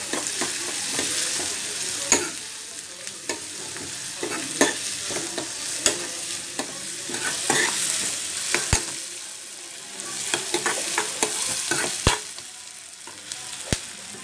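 Sliced onions frying with turmeric in a pan, a continuous sizzle broken by repeated sharp scrapes and clicks of a spoon stirring against the metal.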